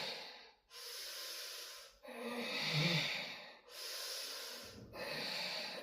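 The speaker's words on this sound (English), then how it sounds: "5 breaths here. Inhale fully. Focusing on the exhale." Slow, deep breathing held in a yoga plank during a vinyasa class: loud, close inhales and long exhales alternating in an even rhythm, each breath a broad airy rush, with no talking.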